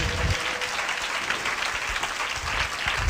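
A church congregation gives a burst of loud, sustained applause to honour God, with dense clapping filling the hall for a few seconds.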